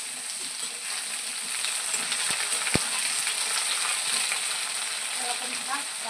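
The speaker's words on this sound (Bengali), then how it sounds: "এবার আমি কাঁকরোল আর আলু একসঙ্গে মিক্সড করেই দিয়ে দিচ্ছি। এটা আমি লাল লাল করে ভেজে নিতে হবে।" Teasel gourd and potatoes fry together in a pan with a steady, even sizzle and a couple of brief utensil knocks.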